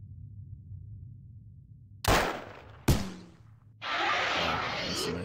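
A tank cannon fires in the turn-based strategy game OpenXcom (Final Mod Pack): two sharp, loud blasts about a second apart over a quiet low hum, followed by a sustained hissing burst like an explosion or smoke.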